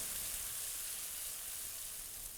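Garlic and onion paste frying in mustard oil for Banarasi sour potatoes, a steady bright hissing sizzle at even volume throughout, close by and with no voices.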